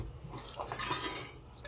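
A stainless steel camping cookware set is handled, giving bright metallic clinks and scrapes of pots and utensils knocking together at close range, with no one talking.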